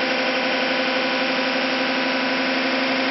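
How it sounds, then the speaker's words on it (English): A pulse motor driving an induction generator gives off a steady, continuous electrical whirring hum with a constant droning tone throughout. It is moderately loud and unbroken, with no voices. "using a pulse motor to drive an induction generator"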